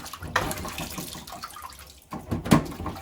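A whole lemon rinsed under a running tap, water splashing steadily at close range for the whole stretch, with a louder gush near the end.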